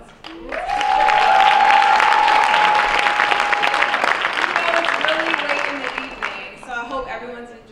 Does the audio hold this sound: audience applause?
yes